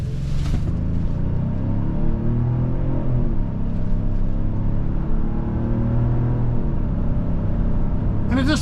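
A 2026 Genesis GV70 2.5T SUV drives down the road, its steady engine and road rumble filling the cabin with a low, continuous drone that rises slightly as it picks up speed.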